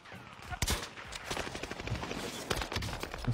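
Rapid bursts of video game gunfire from a shooter, a sharp loud crack followed by scattered quieter shots and clatter, close and dry, with no speech.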